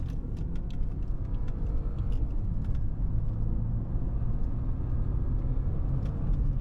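A BMW F10 520i sedan driving slowly over a rough, broken road, giving a steady close low rumble of engine and road noise with faint rattles and knocks from the bumpy surface throughout.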